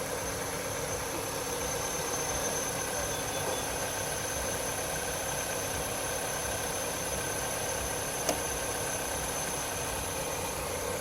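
A 2013 Dodge Journey with the 2.4L engine runs at a steady idle, a faint continuous hum and whir under a constant background hiss, with one brief tick partway through and no voices.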